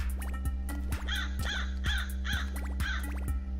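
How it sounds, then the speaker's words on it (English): A crow serving as a checkpoint in a spooky cat platformer built in Dreams on PS4 caws in a steady series of harsh, repeated calls over a constant droning game soundtrack. "I love this crow being the checkpoint"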